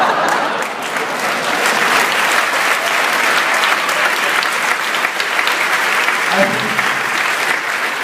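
Sustained applause from a large audience fills the space, dense clapping that holds steady and loud from start to end with no speech.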